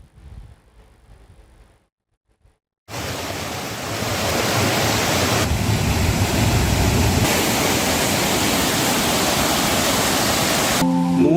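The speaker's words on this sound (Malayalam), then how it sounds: "മൂന്നിടങ്ങളിലായി പതിക്കുന്ന വെള്ളച്ചാട്ടം" A waterfall at Upputhara in Kerala tumbles over rocks in three places, its steady, loud rushing roar starting abruptly after a quieter opening and continuing unbroken until it cuts off.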